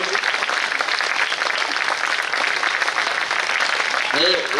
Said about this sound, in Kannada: ಜೋರಾಗಿ ಎಲ್ಲರೂ ಚಪ್ಪಾಳೆ ಇರ್ತೈತಿ ನೋಡಿ